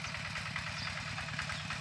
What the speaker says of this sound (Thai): ได้ยินเสียงรถไถ